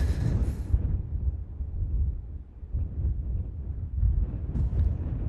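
Blustery wind at Manchester Airport buffets the microphone in heavy, low rumbling gusts that swell and ease over a few seconds, loud and close, with no voices.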